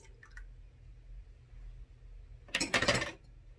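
Liquid fragrance oil being poured into a measuring cup of melted soy wax while making a candle: a short splashy pour, close and fairly loud, lasting about half a second after a quiet lead-in.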